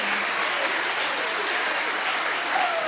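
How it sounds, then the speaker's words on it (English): A concert audience gives a huge round of applause for middle and high school band students at an all-county band event, a steady wash of clapping filling the hall with faint voices underneath. "everyone giving a huge applause to our students on the stage and our students here, our high school students"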